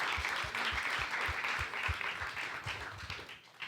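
Congregation at a church discipleship class clapping in a steady crowd applause, mid-level and continuous, fading slightly toward the end with no one speaking over it.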